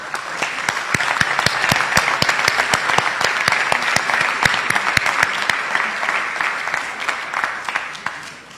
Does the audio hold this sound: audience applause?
yes